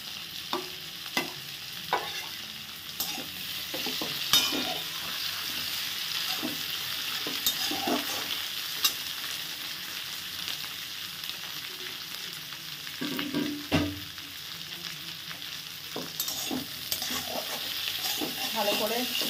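Chowmein noodles with prawn, chicken and scrambled egg stir-fried in a pan over a gas flame, a steady close sizzle broken by repeated scraping and tossing clatters throughout.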